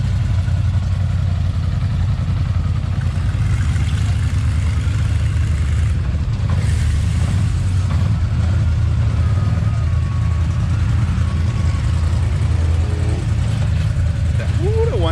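A Highlifter ATV idling as it is unloaded from a trailer, a steady mid-pitched engine hum running continuously close by, with outdoor background noise and a few brief bumps.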